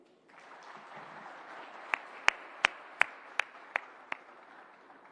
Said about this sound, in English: a big round of applause to the Digit team once again, please